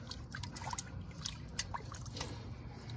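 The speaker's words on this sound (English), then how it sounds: "We're gonna have to run them under some water." Water trickling and splashing as freshly cleaned squirrel meat is rinsed under running water outdoors, a steady low wash with small sloshing drips and no voices.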